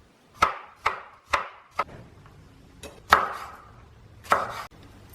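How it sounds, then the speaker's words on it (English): A knife chops Thai basil, garlic and chilies on a board in a run of sharp, close, crisp strikes, three quick ones then scattered single hits with pauses between them, and no voice. "I've got some Thai basil, some garlic and some chilies that I'm going to chop up"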